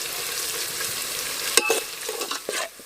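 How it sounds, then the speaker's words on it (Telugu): Onions frying in a pan for restaurant-style egg biryani, being stirred until browned: a steady soft sizzle with scraping stir strokes and a sharp clink partway through, no talking. "ఈ ఉల్లిగడ్డల్ని మనం ఎర్రగా గోల్చుకోవాలి."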